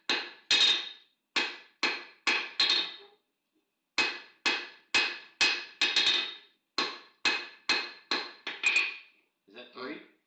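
Repeated sharp hammer blows from a 3-pound hammer striking metal on an anvil, delivered in quick rhythmic bursts of three to five strikes with short pauses, loud and close, ending in a softer scrape.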